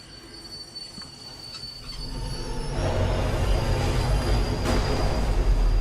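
In the video game Husk, a train brakes as a quiet rattle swells into a loud, sustained metallic screech of squealing wheels over a heavy rolling rumble, with no voices.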